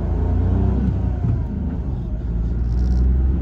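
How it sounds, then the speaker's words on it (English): A 2021 Mitsubishi Mirage with a 5-speed manual drives along a small road, its engine giving a steady low rumble and drone from inside the cabin, with no speech. "so the engine's gonna be a little bit loud"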